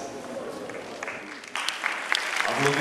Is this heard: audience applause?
yes